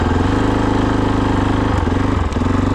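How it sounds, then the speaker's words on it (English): A KOVE 450 Rally motorcycle exhaust putters at idle close by, a steady pulsing low burble that briefly shifts pitch near the end. "this exhaust really sounds a lot like the stock one."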